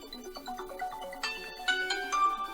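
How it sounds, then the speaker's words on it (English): A mobile phone ringtone plays a bright, repeating electronic melody of stepped notes, ringing steadily and fairly clearly for a couple of seconds, with no talk over it. "That's my phone."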